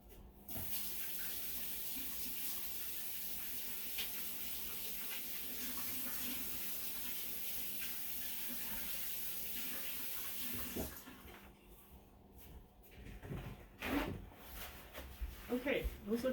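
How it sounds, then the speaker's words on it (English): Tap water runs steadily as hands are rinsed at a sink, a broad continuous hiss from the start that cuts off near eleven seconds, followed by a few clinks and handling noises. "Just gonna quickly rinse my hands."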